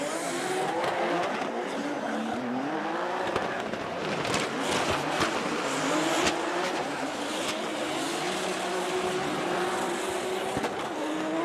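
Drift race cars compete at Gransnow Okuibuki in Shiga, engines screaming and revving continuously with tire squeal, a loud, dense wall of motor sound throughout.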